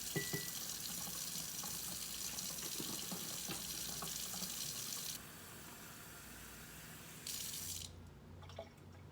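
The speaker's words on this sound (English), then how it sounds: "I'm letting the water run to get my water good and hot." A steady rush of water running hot from a tap, continuous and fairly loud, with the flow changing slightly near the end.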